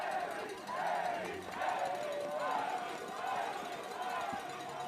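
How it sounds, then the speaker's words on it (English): A crowd cheers a biathlon mass start winner at the finish in Kontiolahti, Finland, with a steady roar and swelling whoops lasting throughout, partly under a commentator's voice. "and the crowd love it"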